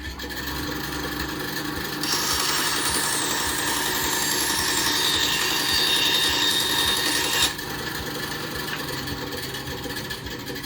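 Ryu RBS 8 eight-inch bandsaw cross cutting a piece of wood, a steady rasping saw-through from about two to seven and a half seconds over the constant motor hum, loud and close.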